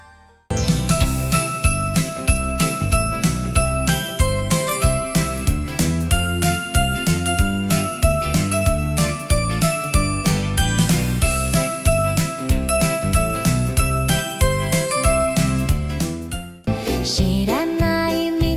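Suno AI-generated Christmas song with prominent jingle bells shaking over a steady beat and full band backing, loud and continuous with a short break near the end.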